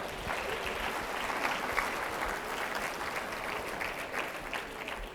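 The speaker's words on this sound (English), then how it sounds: "Give yourselves a round of applause there." Participants in a Parkinson's exercise class clap together right after finishing a timed workout, producing steady, dense applause that holds at an even level for several seconds without speech.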